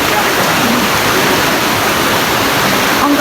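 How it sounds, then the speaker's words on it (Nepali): Forceful water rushes over a waterfall in a loud, dense, unbroken roar that fills the air from close by. "कस्तो डेन्जर क्या पानीको फोर्स नै हेर्नु न यहाँनिर कस्तो धेरै फोर्स छ पानीको"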